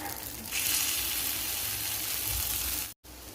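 Egg paniyaram batter goes into a hot, oiled paniyaram pan over a low flame and sizzles in a steady, close hiss that stays even for about three seconds, then cuts out briefly near the end.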